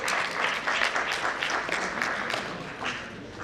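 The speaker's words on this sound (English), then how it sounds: "A big clap for her again, please." Conference audience clapping for a speaker at a sports and exercise medicine event, a steady round of applause heard alone, fairly faint and distant.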